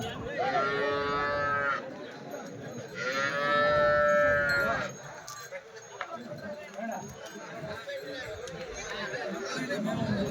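Cattle at a weekly Sunday cow market in Chintamani give two long, loud moos close by, followed by steady crowd chatter and people talking.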